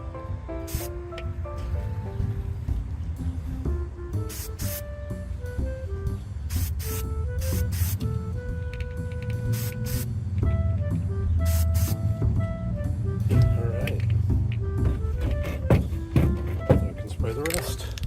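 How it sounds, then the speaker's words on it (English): Spray paint is applied to the rivets of a WWII M1 paratrooper helmet liner, bursts of aerosol hiss coming in short repeated blasts over a low background hum, fairly close. "Need to paint the underside of the rivets first to make sure that they have even coverage"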